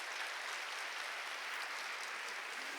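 A church congregation at a Korean service claps together in sustained, dense applause, a soft, distant wash of hands with no voices over it.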